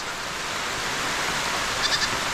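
Steady rain hisses throughout, and near the end a goat gives a couple of short bleats above the downpour.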